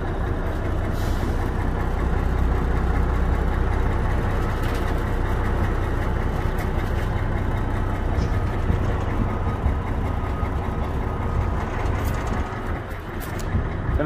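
A 1985 Mack RS690LS truck's diesel engine idles in a steady, low, even rumble close by, running without pause and with no talk over it.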